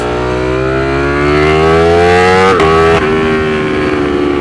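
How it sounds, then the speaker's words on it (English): A Ducati Streetfighter V4 motorcycle on back roads, its engine a loud, close, rising howl as it revs higher, with a brief break as it shifts before the pitch climbs again, no voices. "throw her on the back roads, and let's really see how this thing feels in corners"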